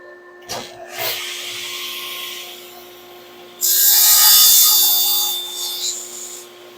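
Wood lengths for drawers are cut with a saw, a steady rasping, hissy cutting noise up close, brief at first, then a louder, sustained cut in the second half.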